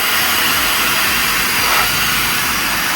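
Handheld Wolfbox MegaFlow 200 blower blasting dust and debris out of an air filter, a loud, steady broadband rush of air that holds constant for the whole stretch with no talking.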